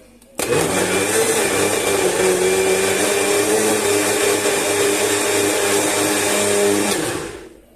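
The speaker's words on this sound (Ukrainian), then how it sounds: "Далі вставляємо в блендер" An Icook blender switches on with a loud whirring motor, runs steadily at high speed for several seconds, then winds down.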